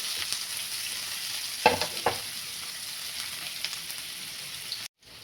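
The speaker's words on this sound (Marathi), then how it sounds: "तो कांदा आपल्याला याच्यामध्ये चांगला परतून घ्यायचा आहे" Chopped onion sizzles steadily in hot oil in a pan, a continuous frying hiss with two brief stirring scrapes near the start, close and fairly loud, no one speaking.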